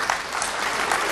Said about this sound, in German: das ist mal so einen ganz plätschernden, leichten, leisen Applaus, auch nur so ganz kurz für Suleika